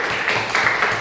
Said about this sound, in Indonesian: Tepuk tangan buat Nur Aziza